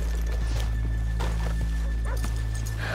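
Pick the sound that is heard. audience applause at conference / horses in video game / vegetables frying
horses in video game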